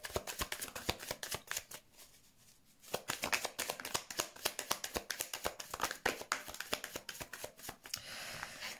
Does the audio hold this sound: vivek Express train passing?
no